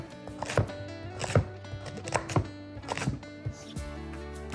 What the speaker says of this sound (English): cut it up however you want it, in little chunks. I'm gonna do mine in slices.